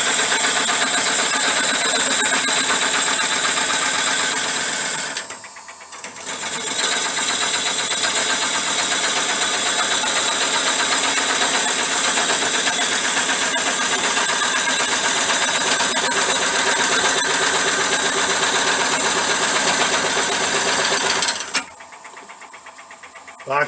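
A lathe turns an epoxy resin bowl blank with a steady, loud whirring drone and a high continuous whine, briefly dipping once before running on, then stopping near the end.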